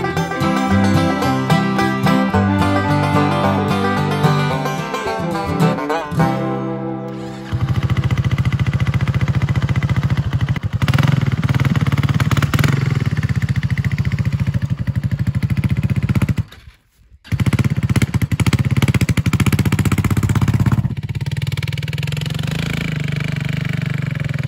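A Honda NX200 motorcycle engine, after long storage with old oil, runs steadily and loudly up close under a covered porch, with a brief cut-out partway through before it picks up again; no talking.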